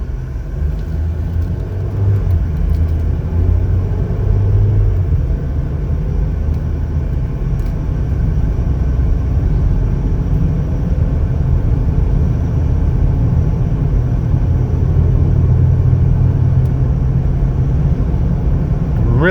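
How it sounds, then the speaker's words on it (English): Road noise and a low engine rumble inside a 2020 Chevrolet Equinox LT on a test drive, a steady, even drone throughout with no notable changes. "We're going to go ahead and take it for a little test drive."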